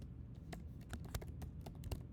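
Typing on a computer keyboard: faint, irregular key clicks tapped in quick succession over a quiet room background.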